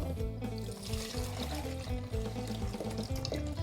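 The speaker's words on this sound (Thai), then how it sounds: "เทลงไปเลยขวดโซดานี้ก็คือ 90 เซนนะครับ" Water poured from a soda bottle into a container while washing food, a continuous close gurgling pour with a faint bubbling trickle throughout.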